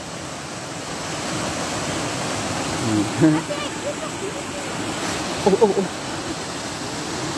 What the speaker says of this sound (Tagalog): may waterfalls dito, oh.